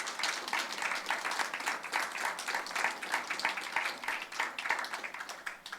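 A church congregation claps and applauds steadily for several seconds, a dense, even patter of many hands heard at moderate distance.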